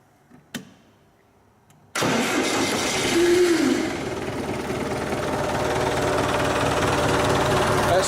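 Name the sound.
John Deere tractor engine starting with fuel shutoff unplugged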